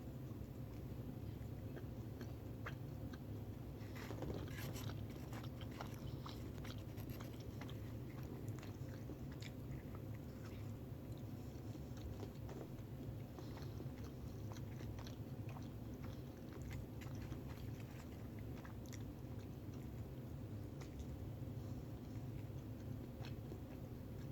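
Someone bites into a Taco Bell chalupa and chews it with close, wet, crunchy mastication, the sound continuing steadily over a low background hum with no talk.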